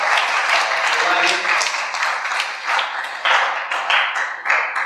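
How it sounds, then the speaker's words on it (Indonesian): An audience at an animal-welfare sharing talk claps in a dense burst of applause that thins into scattered claps toward the end. "tepuk tangan dulu untuk ibu kita"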